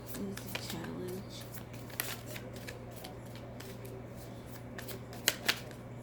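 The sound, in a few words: shuffling tarot cards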